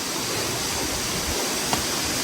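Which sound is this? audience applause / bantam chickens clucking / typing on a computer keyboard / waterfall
waterfall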